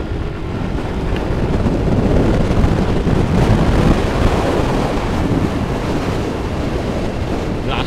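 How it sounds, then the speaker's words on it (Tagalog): Strong wind at Clark Global City in the Philippines roars steadily, buffeting and rumbling across the microphone without a break, loud and close throughout. "Lakas daw angin dito eh."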